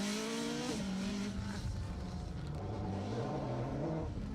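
Darien T90 GTR Plus rally car on a forest stage in Snowdonia, its engine note rising and falling through gear changes as it passes at a distance, fairly faint and steady with no voices.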